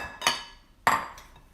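A utensil clinks twice against a bowl while diced rhubarb is mixed with cornstarch: two sharp, close taps about half a second apart, then quiet.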